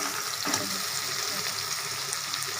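Vegetables frying in a pan, a continuous soft sizzle with a watery texture and a few light stirring clicks, steady and close throughout.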